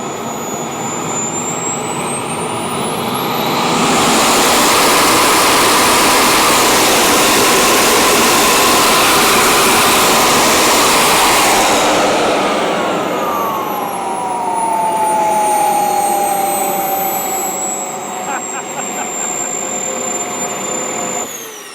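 A scale RC Su-30 model jet's turbine engine runs at close range, a loud, steady roar and whine that swells for several seconds, eases, then surges again before settling.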